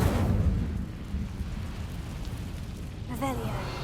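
An Incendio fire spell cast in a video game bursts out as a loud rumbling roar that fades to a steady low rush, with a brief voice-like sound near the end.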